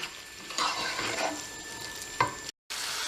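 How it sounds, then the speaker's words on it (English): Minced meat and onions fry in a pan for a desi-style lasagne, a soft steady sizzle with a couple of louder stirring scrapes and a brief dropout near the end. "Make sure that you're combining all the mincemeat and the onions together."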